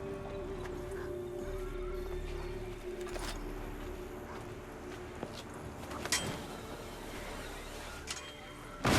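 Seabird cries from the game Assassin's Creed III, soft cooing calls heard at a distance over a steady ambient wash of wind and water, with a few sharper knocks near the end.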